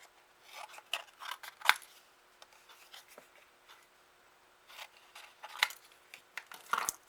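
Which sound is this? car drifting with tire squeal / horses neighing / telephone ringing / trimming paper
trimming paper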